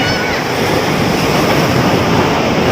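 Sea waves wash steadily against the rocky shore of the rock garden at Tarkarli beach, a loud, continuous roar of surf mixed with wind buffeting the microphone.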